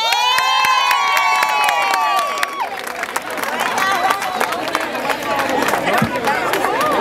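Concert crowd at a Cuban festival in Tampa Bay cheering and applauding as the singer is welcomed, loud shouts and whistles over a continuous roar, with a voice speaking partway through.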